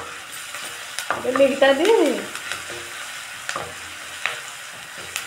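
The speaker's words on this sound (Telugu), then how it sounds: "సగం టమాటా అండి ముక్కలు కట్ చేసి చిన్నగా కట్ చేసి వేసానండి." Chopped tomato pieces sizzling and being stirred in a hot pan, a soft frying hiss with a burst of spatula scraping early on and occasional clinks, with a brief spoken word.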